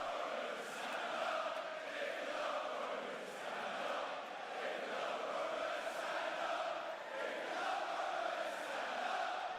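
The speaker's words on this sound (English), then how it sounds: "when the music shuts off to when the fans stop chanting OTC" Fans at a live WWE Raw wrestling event in Birmingham, England chant together as a crowd, a steady, dense roar of massed voices with rhythmic swells that carries unbroken from start to finish.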